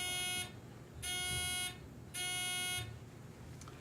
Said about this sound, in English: we need to check our buzzers right now, one at a time